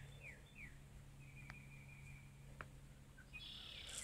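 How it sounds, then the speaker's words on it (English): A few scattered bird calls sound outside a family home in summer: short faint chirps and a thin whistle over a low steady hum, with a brighter chirping burst at the end. "you just sit outside and you just hear birds singing"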